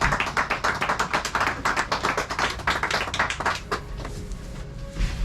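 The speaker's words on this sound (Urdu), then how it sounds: "آپ سب کی تالیوں کے ساتھ" An audience at a speech commemorating the martyrdom of Shaheed Maqbool Butt claps in a brisk burst of hand claps that thins and fades toward the end.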